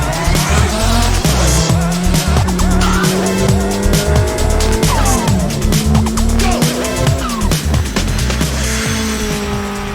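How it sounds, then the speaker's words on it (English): A Subaru WRX with a screamer pipe exhaust roars close and loud, its engine rising and falling through shifts, with squealing tires and a continuous raw, rasping exhaust note throughout. "the screamer pipe certainly lets people know that this WRX ain't no stocker"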